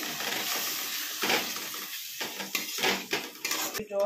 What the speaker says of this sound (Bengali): জল দিয়ে ভালো করে মশলাটা কষিয়ে নিই